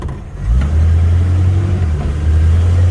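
A car engine with freshly drilled carburetor jets revs moderately and holds a steady, loud mid-range drone, kept low rather than pushed high.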